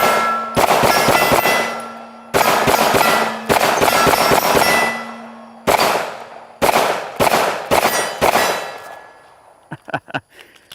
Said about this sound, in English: I'm shooting 4-inch squares on top of those gongs, rapid firing.